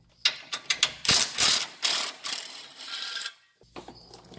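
A ratchet turns a socket on a bolt holding a bracket on a Silverado, giving a close series of rapid clicking bursts with short pauses between strokes.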